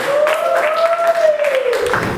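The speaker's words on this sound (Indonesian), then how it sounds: "Kita kasih tepuk tangan." A classroom group applauds briefly at a teaching performance assessment at an Islamic state university in Jakarta. The soft, smeared clapping sits under a loud, sustained high tone that bends up and down like a whistle or feedback.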